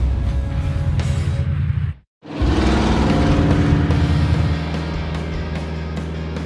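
A custom-built one-off car's engine runs loud and steady, cuts out abruptly for a brief moment, then roars back with rumbling revs as the car pulls away.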